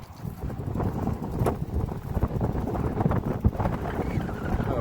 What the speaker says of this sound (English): Wind's really blowing up here.